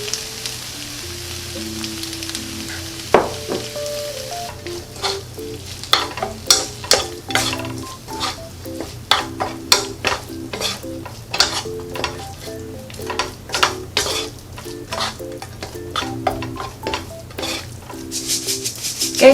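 Seaweed stems and carrots sizzle in a hot pan while a utensil scrapes and stirs in irregular bursts, the clatter growing busier after a quiet start.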